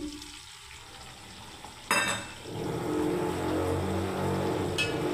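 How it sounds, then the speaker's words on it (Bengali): Paneer stirred into a simmering mixed vegetable curry in a pot, opening quiet, then a sharp clatter as the pieces go in, followed by a steady close bubbling sizzle. "এবার আরেকবার নেড়ে দিচ্ছি পনিরটা দিয়ে"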